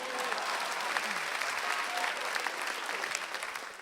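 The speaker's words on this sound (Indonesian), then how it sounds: "Tepuk tangan buat orang Jawa dong." Audience applause at a stand-up comedy show, steady full clapping from a crowd at moderate distance, lasting a few seconds without a break.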